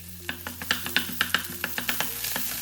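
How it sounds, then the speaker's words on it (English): Chopped onion stir-fried in a tablespoon of oil in a pan, spatula scraping close and steady in a brisk repeated rhythm over a soft sizzle, with no voices. "In a pan, add 1 tablespoon of oil and stir fry the onion."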